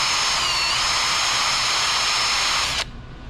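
A handheld drill spins a pad of Scotch-Brite to hone a brake caliper pin from a Kawasaki 636 motorcycle, giving a steady, loud, high whir for about three seconds before it stops abruptly.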